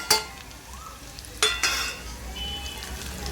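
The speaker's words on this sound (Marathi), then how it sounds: "या पूर्ण तेलामध्ये भाजून घ्यायचा" Onion-garlic masala and ghati spice mix roasting in hot oil for an egg curry, a steady sizzle broken by a few sharp utensil scrapes and clicks near the start and middle.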